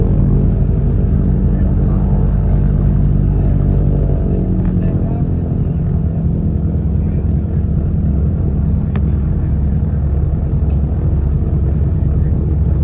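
A Douglas DC-3 airliner in American Airlines livery accelerates for takeoff, its piston engines giving a loud, steady rumbling drone throughout with a continuous deep roar.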